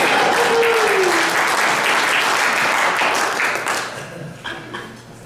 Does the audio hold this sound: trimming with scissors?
no